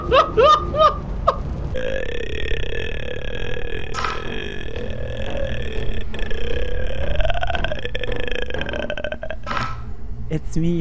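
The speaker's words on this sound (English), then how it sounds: "that was a frightening burp for sure" A long, loud, deep burp rumbles on for several seconds, with laughter and exclaiming voices around it.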